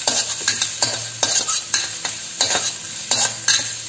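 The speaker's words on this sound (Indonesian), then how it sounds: "Nah, kita tumis dulu bawang putihnya." Garlic stir-fried in a little oil in a pan, with a steady sizzle broken by repeated scraping stirs of the spatula at a quick, irregular rhythm, close and fairly loud, with no voices.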